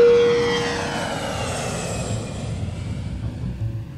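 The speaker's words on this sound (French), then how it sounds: "Prêt pour le décollage." A jet airliner taking off, its engines a steady broadband roar that swells at first and then eases slightly as it holds on.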